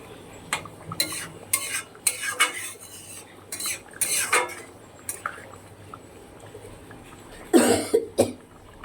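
A spoon stirs a pot of simmering dahi kalia fish curry, making intermittent close clinks and scrapes against the pan with short pauses between bursts. A cough also cuts in.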